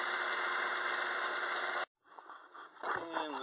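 Lathe carriage traversing on a test gear set with two ganged 64-tooth gears driving the lead screw, moving at about double the finer set's speed: a steady mechanical whir that cuts out briefly, then resumes with a lighter rattle and hum.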